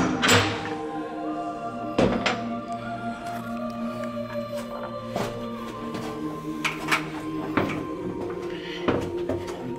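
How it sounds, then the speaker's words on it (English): A small door down steps into the crypt of St. Wystan's Church opens with several wooden thunks, creaks and knocks spaced over about ten seconds, close and echoing in a quiet stone space. "little door."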